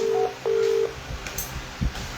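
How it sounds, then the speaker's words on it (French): Two short electronic tones sound in quick succession, followed by faint background noise and a brief low thump. "Si elle prend le téléphone, ça va sonner."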